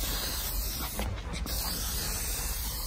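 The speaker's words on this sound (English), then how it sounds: "This is a light spray glue, is it? It's a primer." Spray primer hissing from an aerosol can onto a car side skirt during a VW Golf MK7 R fitting, a steady close broadband hiss lasting throughout with a brief dip midway.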